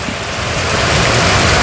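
Heavy early-morning rain falls steadily in a broad, dense wash, loud and continuous throughout with no voices.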